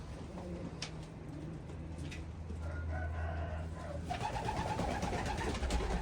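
Racing pigeons coo repeatedly at close range, soft throaty calls over a busy background of birds, with a rooster crowing in the mix.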